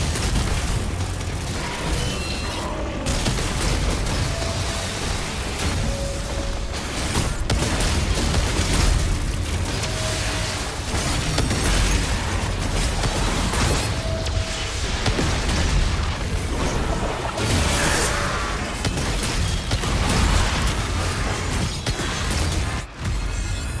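Rocket launcher explosions in the video game DOOM The Dark Ages, a relentless loud barrage of booming blasts and crunching impacts over dense, chaotic combat noise that continues without pause.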